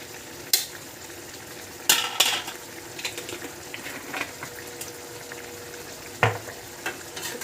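Jengkol sizzles in a hot pan for balado while a spoon scrapes and clacks against the metal in occasional sharp knocks as it is stirred.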